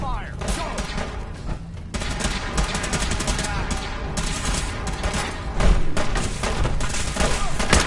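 Dense, loud gunfire from the Fallout 4 video game, rapid overlapping bursts that continue almost nonstop through the battle, with a voice talking over the shooting.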